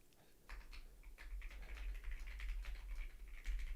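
Typing on a new computer keyboard, a steady run of quick soft clicks at close range with a low background hum and no talking.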